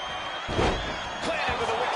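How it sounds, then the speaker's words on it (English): Heavy body slam as a wrestler is planted with a DDT in a wrestling video game, a sharp thud amid crowd noise and commentary talk. "Planted with a wicked DDT."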